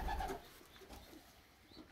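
Racing pigeons coo softly in a loft, with low, throaty calls repeating over a dull background murmur.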